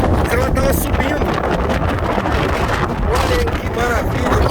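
Strong wind at a canyon in the mountains of southern Brazil roars hard and without a break against the microphone, with rushing water under it and someone talking briefly.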